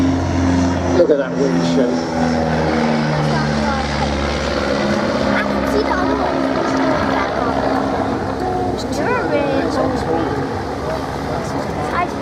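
A vintage de Havilland Dragonfly aircraft's engine and propeller drone steadily at a moderate distance, a continuous rumbling hum running beneath people talking throughout.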